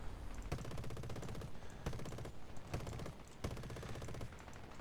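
Machine guns of a Spitfire Mk.1A in War Thunder fire in several sharp, rapid bursts separated by short pauses, dense rattling volleys over a steady engine drone, with no talk.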